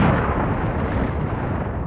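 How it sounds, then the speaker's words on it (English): A massive explosion rumbles down a mountainside as a dense, sustained roar that fills the clip at a steady loud level and slowly fades. "The same massive explosion echoed out down the mountain."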